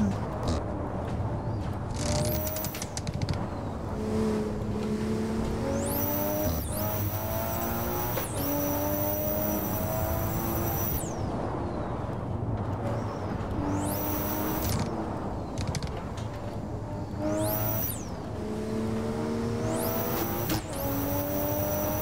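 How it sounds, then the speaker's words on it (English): Racing car engines rev and shift repeatedly in the racing video game Assetto Corsa, with high whining turbo and blow-off sounds recurring every few seconds over a steady engine drone. "Damn, the turbo noises in this shit."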